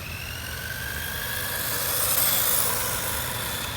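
A restored 1986 Ishipla Monster RC buggy on a nickel metal hydride battery pack runs with a loud, whining gearbox. The sustained buzzing motor drone swells slightly mid-way, close by, with no talking.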